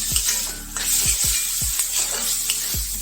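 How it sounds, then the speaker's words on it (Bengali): Onions and capsicum fry in a pan with a steady, bright sizzle that holds through the clip, broken by several low thuds and scrapes as the vegetables are stirred. "এখানে পেঁয়াজ আর ক্যাপসিকামগুলো একটু ভেজে নিচ্ছি"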